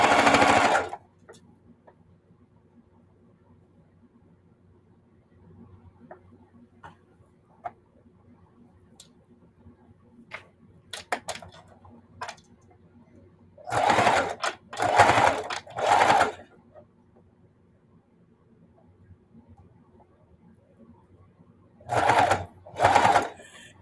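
A sewing machine stitches a quilted casserole pad, running in several short bursts of rapid mechanical chatter between quiet stretches of faint handling noise and occasional ticks.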